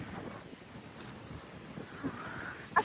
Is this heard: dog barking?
no